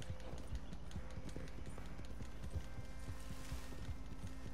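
Horse hooves in the Red Dead Redemption 2 video game clip-clop in a steady, continuous rhythm, with faint tonal game sounds underneath.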